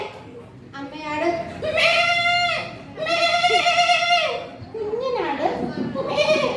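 A person imitates a mother goat's bleat in a sequence of drawn-out, wavering vocal bleats, loud and close, with short pauses between them.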